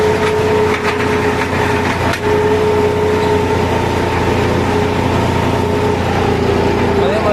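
A John Deere 5310 tractor pulling a spring cultivator through sandy farm soil drones steadily with a loud, constant engine rumble throughout, as someone talks over it.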